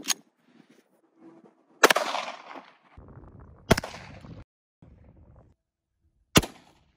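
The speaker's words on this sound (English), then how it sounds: "Now we got 9mm. 9mm out of a Glock 17" Three sharp, loud gunshots from a 9mm Glock 17 pistol crack out at irregular spacing outdoors, each followed by a brief echoing decay, with quiet rustling in between.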